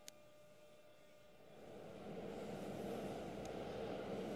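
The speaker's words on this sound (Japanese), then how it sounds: "一番乗り場から回送電車が発車します" An out-of-service train rumbles away from a platform at Osaka Namba station, its low mechanical noise slowly swelling over a few seconds, with a faint click at the start.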